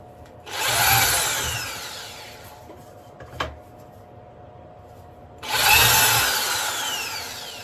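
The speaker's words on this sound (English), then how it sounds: "That needs a couple of holes drilling in it, and then countersinking" A power drill bores holes into a wooden model railway baseboard in two sustained whining runs, with a brief knock in the quiet gap between them, loud and close.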